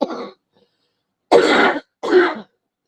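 A person with a lingering cough coughs and clears their throat in three harsh, close bursts, the first short and the last two longer, separated by silence.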